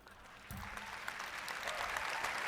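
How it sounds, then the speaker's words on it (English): Audience applause at a TED Talk: a crowd breaks into clapping about half a second in, swelling into steady, fairly loud applause that continues to the end. "people clapped"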